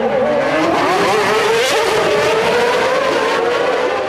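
Formula 1 race cars, including a McLaren, scream past on the Monaco street circuit. A loud, continuous high-revving engine wail rises and falls in pitch with no break.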